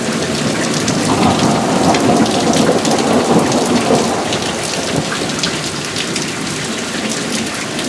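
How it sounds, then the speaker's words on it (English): Heavy rain pours during a severe nighttime thunderstorm in Tornado Alley, loud and steady, with deep rolling thunder rumbling underneath and wind gusting through. "It's starting to blow rain my way"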